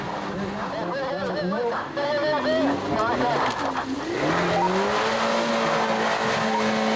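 A Suzuki 4x4 drives through mud at a winch challenge, engine revving and whining loudly and continuously with shifting pitch, close and busy throughout.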